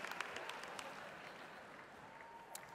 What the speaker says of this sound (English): let's have one more round of applause for all of our graduates.